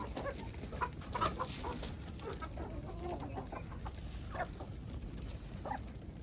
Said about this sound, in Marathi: कोंबडा आणि कोंबड्या मिक्स आहेत.